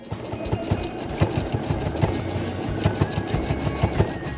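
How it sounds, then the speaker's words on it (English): Sewing machine doing free motion quilting stitches in quick rhythmic bursts of needle thumps, close and clear, with a brief change in pace as the stitching jumps between spots. "I'm going to go ahead and just jump around different spots and do the stitching work"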